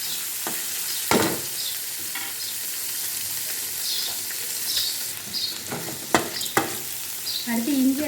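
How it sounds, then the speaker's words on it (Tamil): Onions sautéing in a pan for coriander chutney, a steady close sizzle with occasional spoon scrapes and stirring knocks, growing busier near the end, no voices. "இதெல்லாம் நல்லா வதங்கட்டும்"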